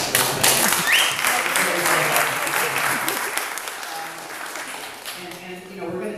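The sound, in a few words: audience applause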